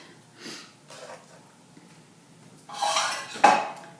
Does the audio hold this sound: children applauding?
no